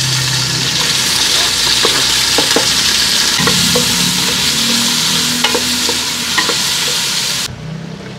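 Onion, garlic and tomato sautéing in a pan as the base for beef mechado: a continuous bright sizzle with scattered clinks and scrapes from stirring, under a low background hum, with no talking.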